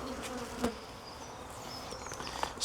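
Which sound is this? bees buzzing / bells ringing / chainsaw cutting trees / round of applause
bees buzzing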